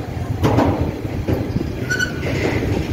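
A train rolling past outdoors near a hillside walk, a loud continuous rumble with rhythmic wheel clatter and brief metallic squeals, close by and filling the whole moment.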